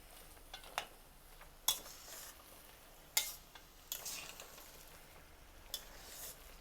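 Raw banana and onion curry stirred in a pan on the stove, with a soft steady sizzle broken by a few sharp scrapes and taps of the spoon against the pan, close and fairly quiet, no talking.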